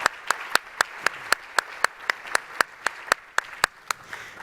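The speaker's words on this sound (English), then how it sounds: "Can I have a round of applause for our great panelists?" Clapping for conference panelists at a toll-free user summit: about a dozen and a half sharp, evenly spaced claps in a steady rhythm, crisp and close, with little crowd noise around them.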